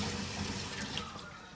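Tap water running into a sink while a cup is washed, a soft continuous splashing stream with a faint clink near the middle, quiet and close, with no talking.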